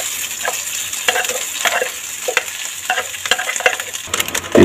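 Garlic and leftover rice frying in a hot pan, a steady close sizzle with intermittent stirring scrapes and no voices.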